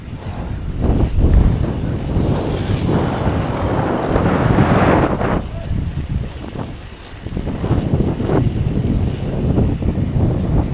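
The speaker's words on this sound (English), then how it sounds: "It's a little windy today." Gusty wind outdoors in the village of Smolnica, Poland, buffets the microphone with loud, continuous rumbling roar that swells and eases over several seconds.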